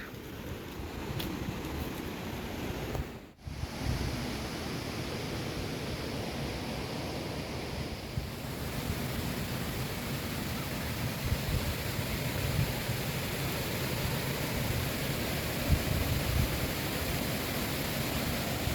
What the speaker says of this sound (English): you can hear the sound of water flowing